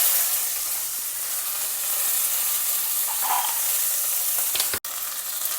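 Dry red chillies, hing and curry leaves sizzling in hot oil, a steady bright crackling hiss that holds evenly, with a brief stir and a sharp clink near the end.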